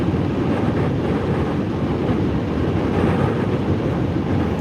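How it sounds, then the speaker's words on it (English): Wind roars and buffets steadily past a car driving from Kingman toward Las Vegas, a loud continuous rumble with no talk. "You can hear the wind."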